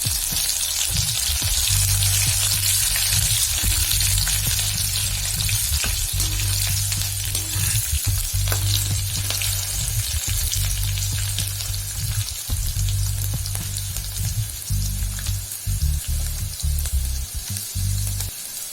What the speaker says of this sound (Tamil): கடுகு நல்லா வெடிச்சிருச்சு.